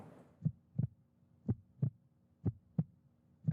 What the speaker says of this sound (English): No, that's like the heartbeat.